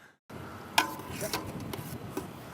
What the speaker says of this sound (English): So now we're just gonna let this sit a while and simmer, and we're gonna be constantly stirring it.